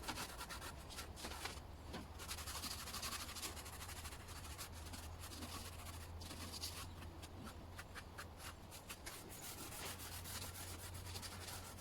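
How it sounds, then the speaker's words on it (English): A scouring pad scratches continuously across a heavy painted wood board measuring 2 by 8 by 21.5 inches, scuffing through to the white underneath with a close, steady gritty rasp and brief pauses in the strokes. "the scouring pad is kind of scratching the surface and exposing the white underneath"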